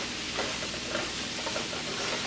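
Vegetables sautéing with garlic and onion in a pan for chicken with broccoli, giving a continuous close sizzle with soft stirring scrapes and no talking.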